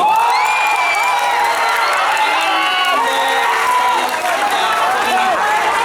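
A large audience at a city kethoprak theatre festival in Yogyakarta breaks into sustained applause and cheering for the winners, a steady dense wash of clapping with shouts and whoops mixed in.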